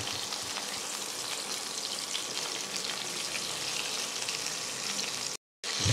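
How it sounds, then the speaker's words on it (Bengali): Fish head frying in oil until browned and crisp, a steady fine crackling sizzle of moderate loudness with no voices, cut by a brief silent gap near the end. "মাছের মাথাটা বেশ একটু লাল লাল করে কড়া করেই ভেজে নিচ্ছি"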